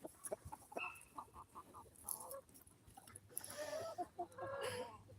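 Several hens in a farm pen cluck and squawk at a moderate distance, scattered calls rising into busier overlapping clucking toward the end over a low background hum.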